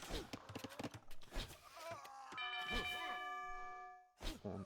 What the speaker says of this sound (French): On sonne la cloche.